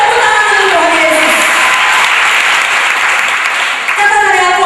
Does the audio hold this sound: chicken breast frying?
no